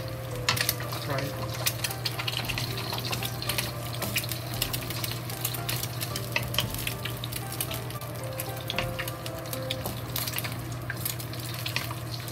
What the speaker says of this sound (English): When the oil is hot, we crack the egg into it.